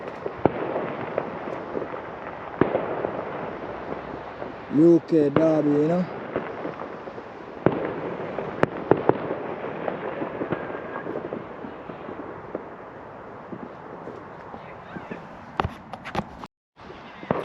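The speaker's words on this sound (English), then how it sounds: "We're just listening to the sound of the fireworks." Bonfire Night fireworks go off in Stockbrook Park, Derby, as a string of sharp distant bangs and crackles with one louder close burst. Footsteps and a voice come through now and then.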